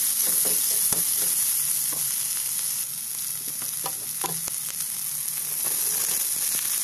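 Sliced boiled pork and pre-fried tofu sizzle loudly in a hot pan, a dense, steady hiss with occasional crackles and soft scrapes throughout, no speech.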